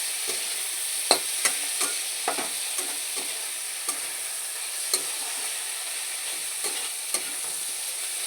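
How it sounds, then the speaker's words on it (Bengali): Soybean chunks and potatoes with grated ginger sautéing in a pan, a steady soft sizzle broken by scattered light clicks and scrapes of stirring, close and alone. "এবার আমি সুন্দর করে একটু সয়াবিন দিয়ে আলু দিয়ে সব কিছু দিয়ে কষিয়ে নেব"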